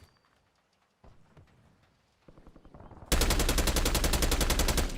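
An AK rifle in Call of Duty Warzone fires a loud, rapid automatic burst over the last two seconds after a few quieter scattered shots and game noises, the rounds hammering out in a tight, even rhythm.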